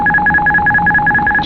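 Airbus A220 cockpit autothrottle disconnect alert: a rapid run of repeating electronic two-tone beeps, evenly pulsed about every sixth of a second, clear and steady over low cockpit hum with no talk.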